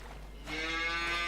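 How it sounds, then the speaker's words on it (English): Cow mooing in Farming Simulator 25 on a winter farm, one sustained low moo swelling in partway through, faint and fairly distant over a steady background hum. "Oh, there's a cow."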